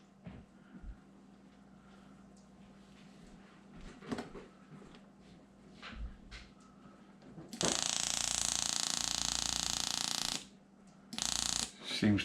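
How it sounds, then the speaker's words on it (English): A relay energizes to reverse a small electric motor on a 9-volt supply, giving a loud, steady mechanical whir that starts abruptly and runs about three seconds, stops, then returns briefly after faint clicks and handling noises. "Will the relay even energize?"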